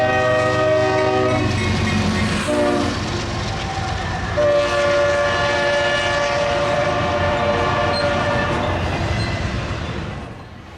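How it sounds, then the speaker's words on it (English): An intermodal freight train rumbles past close by in Deshler, Ohio, a long loud horn sounding in sustained blasts over the steady roar of the cars, fading slightly at the end. "an intermodal train from North Baltimore, Ohio, heading to Global 4 Yard in Joliet, Illinois."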